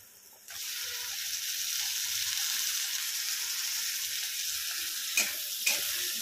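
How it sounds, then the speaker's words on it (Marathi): Tomatoes sizzling and frying in a pan with browned onions, a steady hiss that starts abruptly after a brief quiet and holds evenly, with a couple of soft spoon scrapes near the end. "तर टोमॅटोही छान असं परतून घेणार आहोत।"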